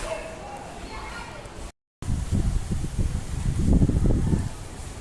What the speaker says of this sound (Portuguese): tá muito forte o vento